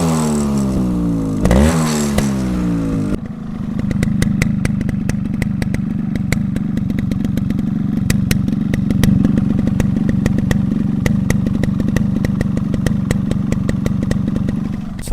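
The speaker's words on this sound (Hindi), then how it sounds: "तो चलो अब लोगों को सुना देते हैं हमारा जो स्टॉक साइलेंसर का" A Yamaha RX100 motorcycle fitted with its stock exhaust silencer revs briefly, then settles into a loud, steady two-stroke idle with a sharp popping clatter, close to the listener.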